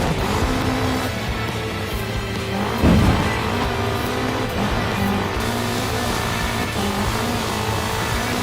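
Car exhaust in the Forza racing game, a steady engine drone with a louder burst near the middle, heard alone without talk.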